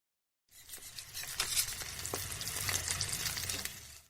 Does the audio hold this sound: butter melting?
yes